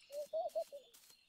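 A bird in a video game gives a short series of four or five cooing, dove-like hoots, fairly soft and close, with brief pauses between notes.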